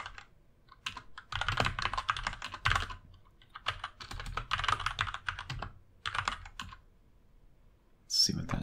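Bursts of typing on a computer keyboard, clattering in several quick runs separated by short pauses while a person talks between them, ending with a brief sharper sound.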